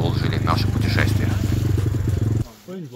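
An enduro motorcycle engine fires up and idles with a rough, loud, rapid putter for over two seconds before cutting off, with voices heard over it.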